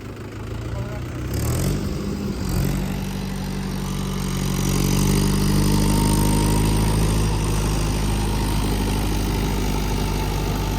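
A diesel tractor engine runs close by, a steady low throbbing hum that rises slightly in revs partway through and keeps going.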